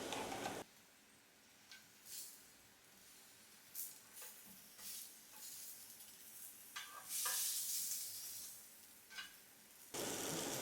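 Aubergine slices sizzle on a griddle pan, a steady close hiss with scattered pops and crackles, rising louder toward the end.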